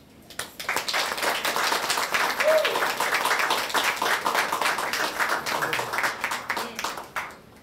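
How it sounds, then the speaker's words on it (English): A crowd at a Portugal Day event breaks into sustained clapping that builds quickly and holds steady for several seconds before tapering off, with a few voices mixed in. "we need to give him a very big round of applause"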